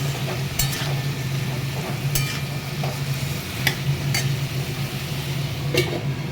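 A spoon stirs potato, papaya and chickpeas with turmeric and salt in a frying pan, several distinct scraping strokes spaced over a steady low sizzle, close and clear.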